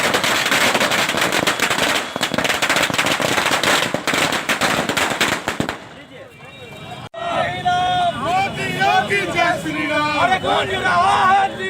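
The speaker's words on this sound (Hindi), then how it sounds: "थोड़ी देर के लिए चारों ओर पटाखों की गूंज से दरभंगा टावर जीत के जश्न में गुंजायमान हो गया।" Firecrackers burst in rapid, loud crackling volleys at an election victory celebration at Darbhanga Tower, followed by a cheering, chanting crowd and shouting voices close by.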